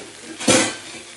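A lid set down over a pan of prawn paturi, giving one short metallic clunk and brief rattle at close range, with no talk.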